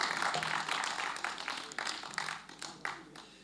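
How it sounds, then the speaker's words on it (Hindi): Audience applause at a live mushaira poetry gathering in Lucknow, a dense wash of clapping that swells and fades in waves, fairly close and unbroken by speech. "अगर आप वाकई में गीत सुनना चाहते हैं तो एक मरतबा ज़ोरदार तालियां बजा दें।"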